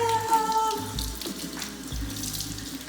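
A Japanese sweet potato is scrubbed under a running kitchen tap, with a steady close splash of water and rubbing against the skin, no talking.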